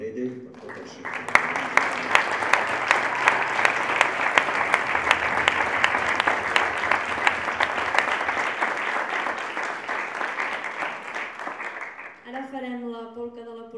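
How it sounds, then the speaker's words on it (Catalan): A concert audience breaks into sustained, even applause that swells quickly and holds for about ten seconds before cutting off as an accordion begins to play. "m'hi féssiu un fort aplaudiment per ella i per tot el sector"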